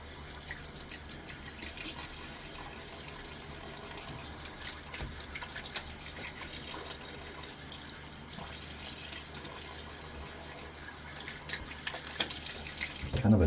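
A bathroom tap runs in a steady, soft stream while a face is rinsed after a shave, with faint splashing and dripping throughout and a slightly louder splash at the very end.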